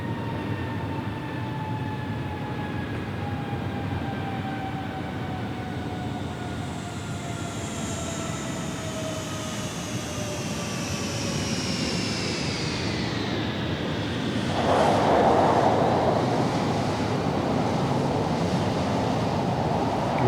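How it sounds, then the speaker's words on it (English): In Microsoft Flight Simulator 2020, an American Airbus A321 descends on short final at Los Angeles, its jet whine sliding steadily downward over a broad roar, then a louder rush of noise as it touches down. "Airplane on short final, 25 left. American Airbus"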